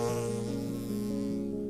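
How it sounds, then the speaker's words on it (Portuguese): A single housefly buzzes in a steady, close, continuous drone with a faint wavering pitch, heard alone with no other sounds. "Zumbiu uma mosca, incerta e mínima."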